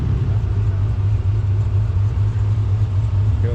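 A widebody Dodge Hellcat at a car meet rumbles with a deep, loud, steady low engine drone, close by and alone without talk.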